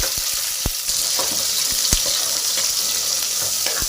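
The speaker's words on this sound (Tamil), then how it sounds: "எண்ணெய் சூடானதுமே நம்ம கடுகு சேர்த்துக்கலாம் கடுகு ஜீரா சேர்த்துக்கலாம்" Mustard seeds and cumin sizzle in hot oil for a bottle gourd and moong dal curry, a steady dense frying hiss with a few sharp pops and crackles, close and continuous without speech.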